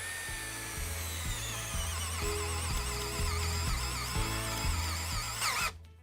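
Budget cordless drill boring into a wooden butcher block, its motor whining steadily with a loud, rhythmic pulsing chug from the bit biting the wood, cutting off abruptly near the end.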